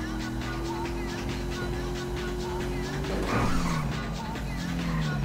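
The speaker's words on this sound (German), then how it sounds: "Das Auto hört sich schön an" A car in the PC game GTA 5 holds a steady, droning engine tone, then its tires squeal in a short skid that bends the engine pitch before the drone settles again.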